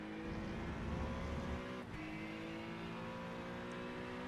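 In a racing video game, a Honda NSX GT3 race car's engine drones steadily onboard at Sebring, a loud sustained tone that dips briefly once before resuming, with no voices.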